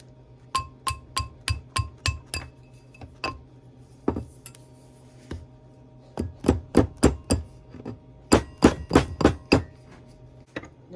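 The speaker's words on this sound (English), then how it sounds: "Go back to your steel mandrel. Drive it down the mandrel." Metal ring hammered down a steel mandrel during jewelry making, sharp ringing blows in quick bursts of five to seven strikes with short pauses, close and clear.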